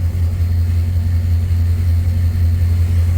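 The LS-swapped Plymouth Cuda idles slightly high with a loud, steady, close low rumble and a constant throb.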